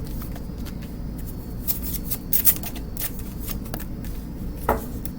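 Zodiac Oracle cards being shuffled by hand: a steady run of soft riffling and flicking, with sharper snaps near the middle and again toward the end, close and fairly quiet.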